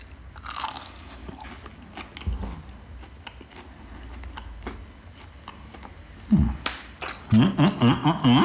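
Crunchy breaded KFC chicken tender bitten and chewed up close: scattered crisp crackles early, a sharp bite near the middle, then a loud run of rhythmic crunching chews toward the end, with no talk.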